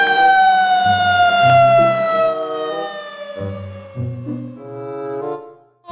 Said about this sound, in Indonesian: Ada mobil pemadam kebakaran.